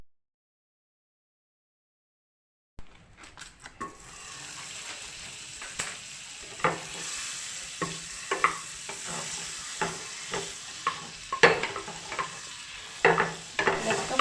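Butter sizzling in a pan while pasta sauce is being made, with silence at first, then a steady crackle broken by repeated scraping and stirring knocks from a utensil, close and moderately loud.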